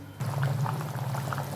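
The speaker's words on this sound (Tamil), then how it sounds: "குழம்பு நல்லா கொதிக்குது." A pot of lady fish curry bubbles and simmers steadily up close, a soft continuous boiling burble with no voices.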